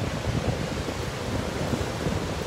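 Ocean surf rolling onto Laguna Beach, California, a steady wash of breaking waves with wind rumble across the microphone, continuous and fairly close with no voices.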